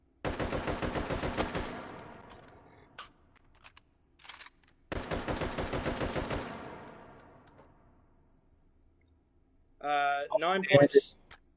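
Handgun shots fired in two rapid timed strings, each a burst of sharp, loud cracks in quick succession, separated by a short pause, with a brief burst of talk at the end.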